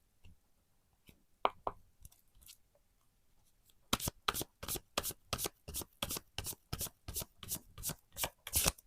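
Tarot cards being shuffled by hand, a few soft handling sounds at first, then a fast regular run of sharp riffling bursts, close and crisp, with no talk.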